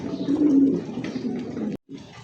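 A pair of American fancy pigeons with pink beaks coo in low, throaty rolling calls, close and fairly loud, with a brief break of silence near the end before the cooing resumes.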